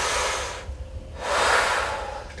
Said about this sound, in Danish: Jeg plejer at foreslå 3 dybe vejrtrækninger